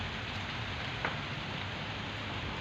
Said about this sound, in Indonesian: Udane ora patek deres, gerimis. Udane campur angin bolo.